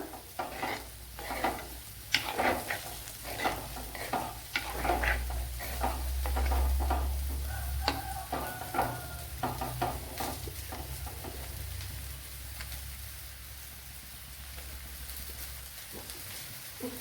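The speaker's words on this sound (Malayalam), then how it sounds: "ചേർത്ത് കൊടുത്ത് നല്ലതുപോലെ ഒന്ന് വഴട്ടിയെടുക്കണം" Ivy gourd (kovakka) sautés with coriander powder in a pan for coconut milk curry, with a soft sizzle under repeated spatula scrapes and stirring taps, close up and without talk.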